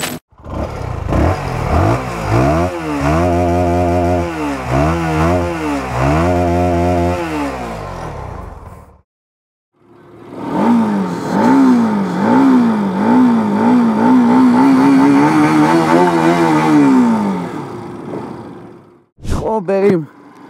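Tuned Peugeot 207 drag car engine revving hard in repeated rising and falling bursts, loud and close, then a gap before a second long rev climbing and holding high, with a brief blip at the end.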